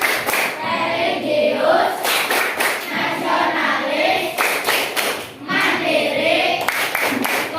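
A group claps a rhythmic chant pattern in repeated bursts, hands striking together in patterned sequences while children's voices chant words along with the claps, loud and close throughout.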